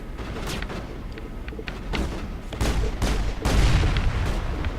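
Gunfire and booming shots in the sci-fi game Mass Effect, a string of sharp reports and heavier thumps over rumbling combat noise, steady and fairly loud without speech.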